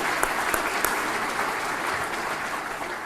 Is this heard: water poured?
no